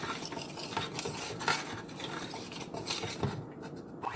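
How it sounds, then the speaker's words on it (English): Chocolate chip cookie dough mixed by hand in a bowl: soft, close scraping and stirring strokes in an uneven rhythm, quiet and without talk. "hand mix until it's in there. Don't over mix."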